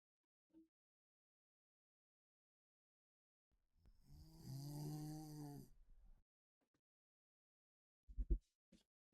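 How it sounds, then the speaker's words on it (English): A person snores once, a single drawn-out rasping breath that is fairly faint, set in near silence and followed by a few soft clicks. "Can you not snore so loud?"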